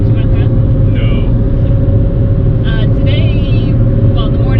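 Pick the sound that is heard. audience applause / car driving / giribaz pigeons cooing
car driving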